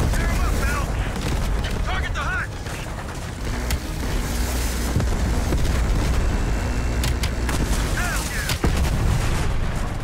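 Helicopter rockets firing during a mission in Call of Duty: Black Ops Cold War, heard as a dense, continuous barrage of booming blasts and gunfire under intermittent talk.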